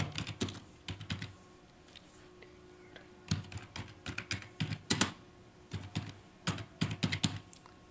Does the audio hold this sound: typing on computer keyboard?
yes